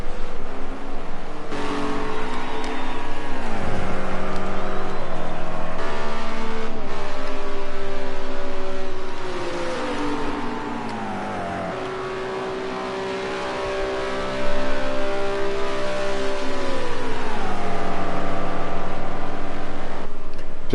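GT race cars lapping the Spa circuit during a British GT race, loud engines revving and shifting through gears, pitch rising and falling as cars pass close by, with a brief lull midway.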